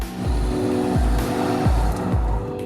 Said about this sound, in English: you do get a fair amount of turbo lag lower down in the rev range, and then there's a sudden rush of power